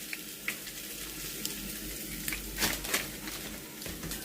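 Fish for escovitch frying in hot oil in a pan, a steady broad sizzle throughout with a few louder crackling bursts and faint clinks, close and without talk.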